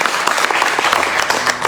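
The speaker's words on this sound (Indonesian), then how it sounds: "Boleh kita beri tepuk tangan yang pertama." A church congregation at a Sunday revival worship service bursts into loud, dense applause that runs steadily throughout, with many hands clapping at once and no voice over it.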